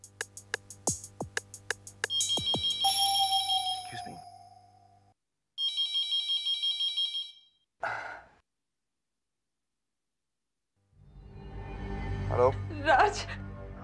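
A telephone rings in a 1990s Indian TV drama: a short burst of repeated electronic ringing pulses, clear and close, set between other sounds and soft breathing-like noises.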